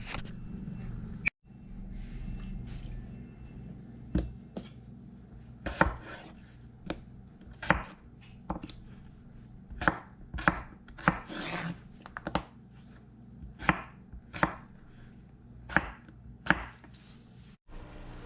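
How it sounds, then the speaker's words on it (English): Potatoes being chopped on a cutting board at home, a series of sharp knife strikes in an uneven rhythm, close and distinct against a faint background hum. "I'm gonna saute these up while I chop up the potatoes"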